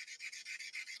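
Steel dagger blade being hand sanded at 220 grit, a steady rhythmic rasping stroke repeated about five times in quick succession, close and alone.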